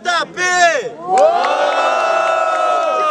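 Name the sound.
crowd cheering and shouting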